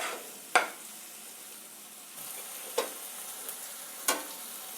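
Chopped onions and tomatoes roasting in a pan, a low continuous sizzle with three distinct spatula scrapes spaced a second or two apart, close and moderately loud, with no talking.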